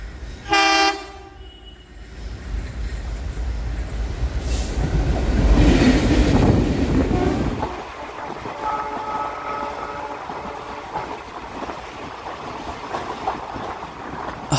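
Quilon Mail passenger train running on the Kollam–Sengottai broad gauge line, a sharp horn toot near the start, then a loud swelling rumble as the train passes close by, settling into a steady rolling clatter of wheels on track.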